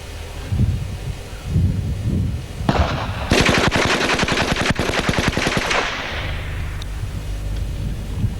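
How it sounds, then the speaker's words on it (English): JD Jones SSK, HK and Calico machine guns fire 25-round bursts outdoors, a loud rapid automatic rattle lasting a few seconds, preceded by wind noise and a few scattered single reports. "This is a 25 round burst from each gun."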